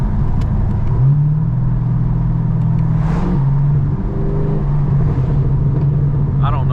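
A Chevrolet Camaro SS with an opened-up exhaust revs hard through downshifts on a night drive, a loud, close engine roar stepping through rising and falling pitch, with a voice briefly near the end.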